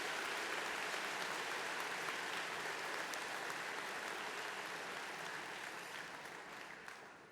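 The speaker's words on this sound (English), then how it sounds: "So I want all of us to give him a round of applause and congratulate him for that." A large audience at a science exhibition opening ceremony gives a sustained, dense round of applause, loud and even throughout before gradually tapering off at the end.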